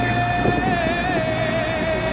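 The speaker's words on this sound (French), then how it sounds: "Nos équipages luttent contre ce vent et ce courant." Steady wind buffets the microphone on a boat as crews battle wind and current, a continuous close roar with a faint tonal hum underneath.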